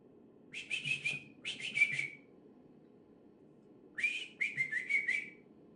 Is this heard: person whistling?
yes